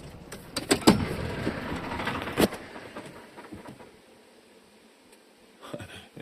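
A car turning around on a quiet forest road, then its engine shut off: a few seconds of engine and tyre noise with clunks, falling to near silence, then a faint rustle at the end.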